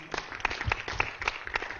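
Applause from the audience at a Mouan Dhyan meditation gathering in Hyderabad: scattered, moderately loud clapping with uneven bursts over a soft crowd murmur.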